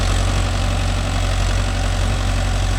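A Mahindra Yuvo Tech Plus 585 4WD tractor engine runs steadily and loudly at close range, a constant low throbbing drone with no talk over it.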